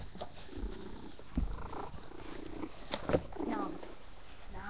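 A pet cat purring up close, a steady rumbling drone that runs throughout with small rises in loudness.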